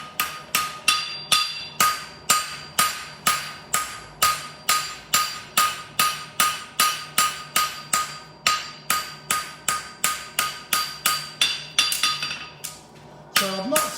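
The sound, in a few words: hammering a shoe's inside border down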